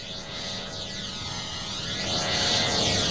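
An airliner taking off in the Roblox game Project Flight, a continuous loud jet roar with a sweeping, rising whine that swells toward the end, heard alone.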